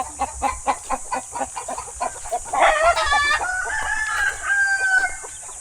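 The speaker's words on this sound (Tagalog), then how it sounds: "Mga manok." Chickens cluck in a rapid series, then a rooster lets out a loud, drawn-out crow nearby, near Taal Lake, Batangas.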